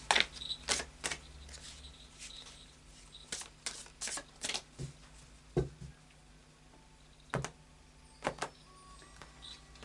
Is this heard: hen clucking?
no